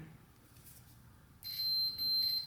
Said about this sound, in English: All right, we hear a beep.